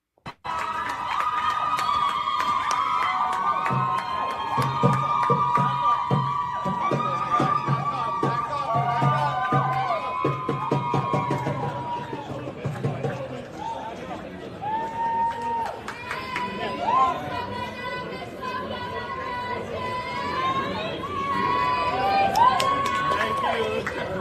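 A crowd at an airport cheers and shouts as Mahmoud Khalil emerges. Voices swell and chant loudly, and a siren-like wail weaves through the noise.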